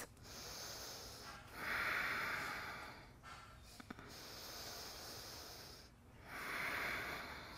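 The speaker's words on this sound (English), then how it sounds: "3 deep breaths." Slow, deep breathing during a relaxing yoga session for the shoulders and neck, with two long audible breaths, each a soft airy rush lasting over a second, near and alone with no talk.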